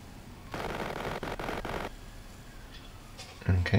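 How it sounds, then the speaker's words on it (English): Rapid video-game gunfire from a Worms match, a weapon firing a stream of bullets at a tree: a loud burst of quick, crackling shots lasting about a second and a half, followed by quieter rustling and a brief low thud near the end. "He's just firing bullets at a tree."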